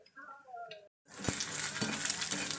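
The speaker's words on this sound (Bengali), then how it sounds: "আর এটা বড় ছেলের জন্য ভাজছি" An egg frying in hot oil in a home kitchen, a bright crackling sizzle with sharp pops that follows a woman's brief speech and a moment of silence.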